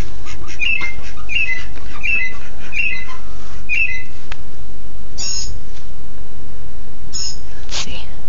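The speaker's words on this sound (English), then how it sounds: "I'm pointing this at the tree where this bird is." A mockingbird calling from a tree after 1 a.m., a run of short repeated chirping phrases at a regular pace, then a few sharper calls, heard at a distance over a steady nighttime background hiss.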